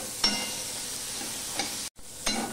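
Brinjal frying in oil on high heat for a neem-begun dish gives a steady sizzle, broken by a few short scrapes of stirring and one brief cut to silence.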